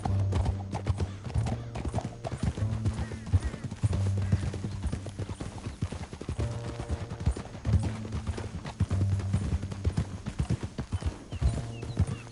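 Horse hooves in the video game Red Dead Redemption 2 clip-clop in a steady, quick galloping rhythm throughout, close and fairly loud, with no voices.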